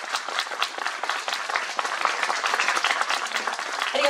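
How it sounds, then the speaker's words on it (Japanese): An audience at a Russian film festival screening gives sustained, dense applause after a producer talk, steady many-handed clapping lasting about four seconds with no talk over it. "皆様大きな拍手でお迎えください"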